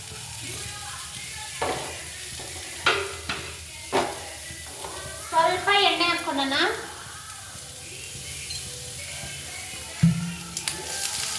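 Onions and tomato sizzle and fry in an oil-filled pan for mushroom sambar, a steady close crackle with a few stirring scrapes and a brief voice partway through.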